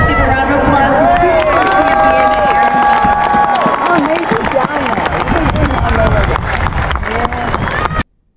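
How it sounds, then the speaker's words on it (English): Stadium crowd at a college spring football game cheers and applauds loudly and continuously, dense whooping and clapping with a rising whistle-like cheer, then cuts off abruptly. "Let's give a round of applause to the"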